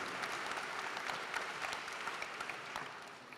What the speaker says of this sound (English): give a round of applause to Fry.